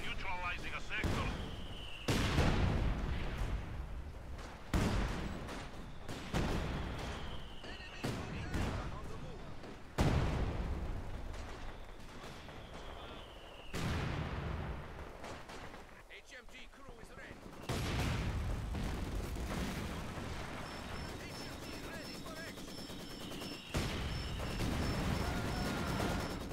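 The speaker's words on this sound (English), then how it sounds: "Slaughter them with artillery barrage!" Repeated heavy booms of an artillery barrage mixed with gunfire fill a Company of Heroes 2 multiplayer battle on a port map, loud blasts landing every few seconds with rumbling decay between them and faint voice lines.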